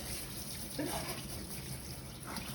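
Water runs steadily from a tap while a juicer's basket and its small filter are rinsed, a continuous close splashing wash with no pauses.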